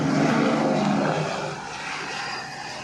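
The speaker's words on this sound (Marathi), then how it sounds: "त्या हेलिकॉप्टरचा आवाज आहे." A loud helicopter engine drone roars close overhead, then gradually eases off a little as it passes; no voices.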